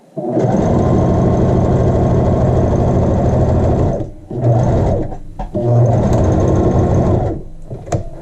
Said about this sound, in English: We're sewing the facing to the center front.